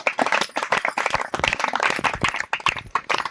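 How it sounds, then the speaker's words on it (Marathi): Applause honoring a grandmother over a hundred years old, a group clapping in quick uneven bursts, moderately close and lively, without speech. "या आजींसाठी आपण एकदा टाळ्या वाजूया"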